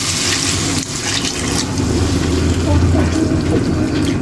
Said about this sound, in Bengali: বেশি জল দেবো না, কারণ সিদ্ধ হয়ে গেছে